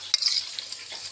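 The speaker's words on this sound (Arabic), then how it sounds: "هنقلبهم كويس وهاجي هنا على البطاطس وبرشهم بالشكل ده ونقلبهم حلو مع بعض" A utensil stirs and flips potatoes with garlic in a pan, giving brief close scraping and clinking strokes over a light sizzle.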